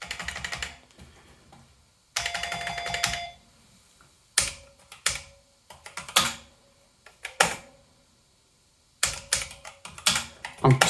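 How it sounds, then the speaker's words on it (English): Key clicks from an Amstrad CPC 464 home computer keyboard, typed in short bursts and single presses with pauses between, close and fairly crisp, no voices. "I'm typing in some colours there just to see."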